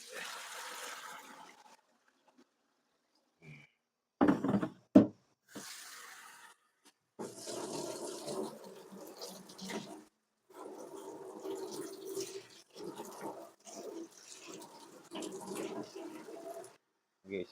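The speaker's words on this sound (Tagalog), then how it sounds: "Lagyan natin tubig." Water runs from a tap into a cooking pot in a home kitchen, in intermittent splashy bursts separated by near-silent pauses, with a voice heard faintly at times.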